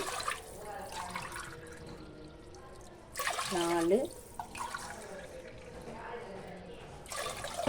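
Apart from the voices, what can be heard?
water being poured into soaking rice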